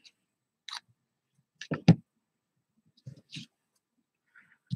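Sharp snips of scissors trimming a paper craft bow for a no-sew paper and fabric pocket, a few quiet isolated clicks spread across a mostly silent stretch, with a tight cluster of cuts in the middle.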